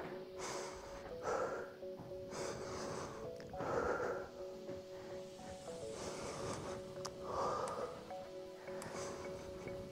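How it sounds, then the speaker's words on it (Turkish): Deep, slow breathing during a cool-down after exercise, air drawn in through the nose and pushed out through the mouth in several audible cycles, close and breathy, with a soft sustained tone in the background. "Derin nefes al, ver. Burundan al."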